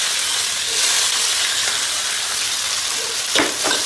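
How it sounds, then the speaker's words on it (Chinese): Garlic and small chili peppers stir-frying in a little oil in a home kitchen, a loud close steady sizzle and hiss with a couple of brief scraping stirs near the end. "放入大蒜、小米辣，给它炒香。"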